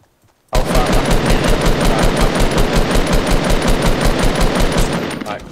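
Rapid automatic gunfire in the Fortnite battle royale video game, a loud, steady stream of closely spaced shots starting abruptly after a brief silence and continuing to the end.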